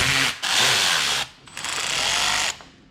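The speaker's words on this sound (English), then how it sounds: "Now we'll switch to this 12 millimeter and take this bolt off, which appears to be the internal filter housing." A 12 mm socket on a ratchet wrench zips off an internal filter housing bolt on a vintage motorcycle: two long, loud bursts of rapid ratcheting clicks, close up, separated by a brief pause, with no talking.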